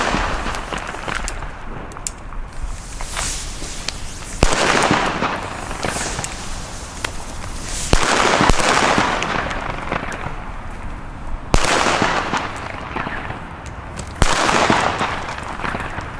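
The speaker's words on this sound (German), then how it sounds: "Funke Böller A, Reibkopfböller, sehen zwar nicht so gut aus, aber ich sage euch, die knallen richtig, richtig gut." Friction-head firecrackers (Funke Böller A) bursting outdoors, a sequence of sharp loud bangs spaced a few seconds apart, each with a short echoing tail over a constant background rumble.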